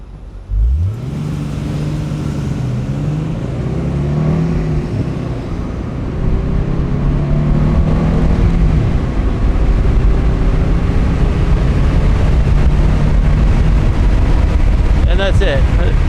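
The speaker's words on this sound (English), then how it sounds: "I can do kind of a little launch with it" A Nissan 300ZX pulls off in a mild launch, its engine note rising steadily and loud from close inside the car, holding a strong droning tone across the pull with no talk over it.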